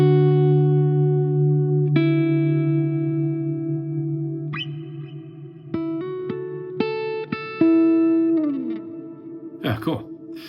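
Sustained electric guitar tones through a Helix ambient preset ring out with long, washy reverb and soft delay repeats, new notes plucked every second or so before a final bend and scrape.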